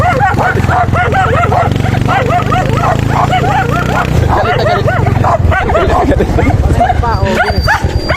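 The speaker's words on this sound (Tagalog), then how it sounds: "Ayan, may mga aso pa, oh." Several dogs barking and yelping close by in a busy, loud scene while riding a vehicle, with people talking over them and engine rumble underneath.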